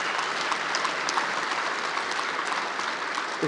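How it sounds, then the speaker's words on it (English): Audience applause at the GMB union annual congress during a Keir Starmer speech, a steady full-hall clapping that stays dense and even for several seconds with no talking over it. "That's what people clapped for"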